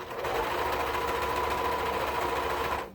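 A serger stitching elastic onto swimsuit fabric runs steadily at close range, a fast, even mechanical whirring hum that keeps going for about three seconds, then stops abruptly.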